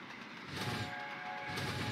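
An LNER Gresley P2 steam locomotive hauling a freight train in the Trainz railway simulator gives off a steady, dense rumble of running noise that swells slightly midway.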